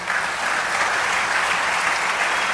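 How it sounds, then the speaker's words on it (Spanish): A church congregation applauds during a Spanish-language sermon, dense steady clapping filling the room throughout. "Dale aplauso al Señor"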